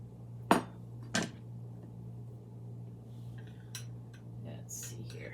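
A ladle scoops creamy mushroom soup out of a pot, giving two sharp metallic clinks close together near the start and a few faint taps afterward over a steady low hum.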